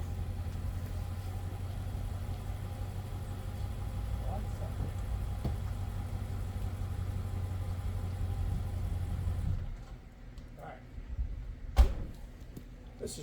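A truck engine idles with a low, steady rumble for several seconds, then cuts off abruptly into near quiet, followed by a single faint thump.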